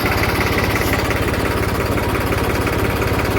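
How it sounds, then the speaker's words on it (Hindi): A tractor engine idles at low revs while driving a crop spray pump in a chickpea field, a steady loud throbbing drone with constant vibration throughout and no talk. "तो ये पंप चल रहा है हमारा ट्रैक्टर का"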